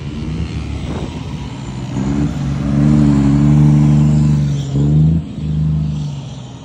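An Audi TT sports car's exhaust revs up and holds a loud, throaty drone for several seconds, dips briefly, then rises again before easing off, heard close with no talking.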